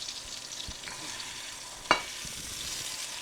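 Bacon sizzling in a pan for a quick-recipe of grilled chicken bacon ranch quesadillas, a steady soft crackle with one sharp clack partway through; no talking.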